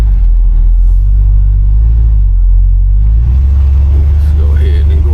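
A 1968 Chevrolet Impala convertible's engine rumbles loud and low from inside the car, the pitch rising slightly as the throttle is opened, with a voice talking over it.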